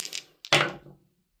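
Three dice tumble and clatter across a table during a tarot reading, a brief rattle followed by a louder cluster of knocks that quickly die away, with no talking.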